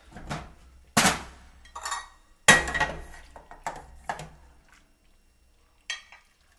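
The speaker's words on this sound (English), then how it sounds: "We're going to go ahead and get some in a bowl here" Homemade chicken noodle soup ladled into a bowl in a home kitchen: a series of sharp clinks and clatters of utensil against pot and dish, spaced irregularly with quiet gaps between, close and fairly crisp, no talking.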